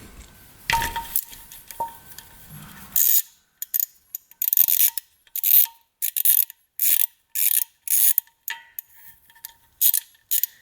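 A ratchet wrench clicks in short repeated bursts while the crank position sensor is removed from a UTV engine, after some metallic handling and clanks at the start; the clicking is close and crisp, separated by brief pauses.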